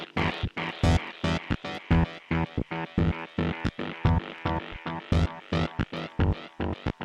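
A dub techno loop under quick compression repeats in sharp pulsing chord stabs, each hit loud and clipped with short echo tails in a steady, driving rhythm.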